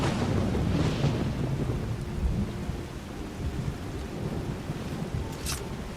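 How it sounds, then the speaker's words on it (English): A thunder strike summoned by a shout in the video game Skyrim rolls as a low, sustained rumble with rain-like hiss, continuous and moderately loud for several seconds. "that random thunder strike was because of you"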